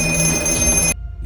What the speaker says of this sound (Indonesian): Namun telepon itu kembali berdering lagi.